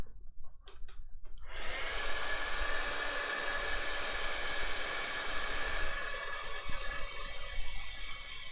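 A heat tool blows hot air onto a Halloween card, starting abruptly after a few soft taps and then roaring steadily and fairly close until the end.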